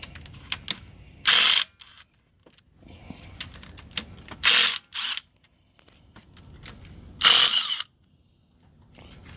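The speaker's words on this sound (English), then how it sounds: "now we're gonna start popping these plenum bolts and get those out." Intake manifold plenum bolts coming off a 2005–2009 Hyundai Tucson, heard as three loud bursts of whirring power-tool or ratchet action separated by quieter clicks and handling noise, close up with no talking.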